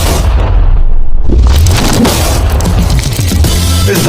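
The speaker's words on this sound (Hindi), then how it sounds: "इस धमाके ने सच में मुझे डरा दिया" A large TNT blast blows apart a steel safe with an egg inside, a loud deep boom rolling out with heavy low rumble and debris clatter that persists for several seconds.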